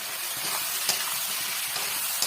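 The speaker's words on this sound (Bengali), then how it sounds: "পোস্তটা দিয়েও হালকা একটু নেড়ে নেবো" Steady frying sizzle of poppy seed paste in a pan, with faint stirring scrapes beneath the constant hiss, close up and without talk.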